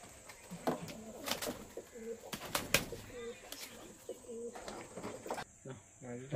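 Pigeons, including a pair of red birds and a kathlal with a white beak, coo repeatedly in soft rhythmic phrases. Wings flutter now and then, and background noise continues throughout.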